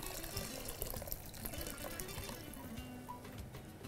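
Water being poured into a prawn masala as it cooks, a soft continuous trickling and splashing pour, fairly quiet and close, with no talking.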